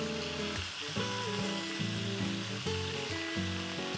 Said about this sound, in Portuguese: porque quando ela tosta, a pele do frango tostado é muito saborosa.